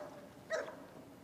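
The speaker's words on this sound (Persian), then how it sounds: "نه سگ همسایه است." A neighbour's dog gives a single short, faint bark in the distance, set against a quiet indoor background.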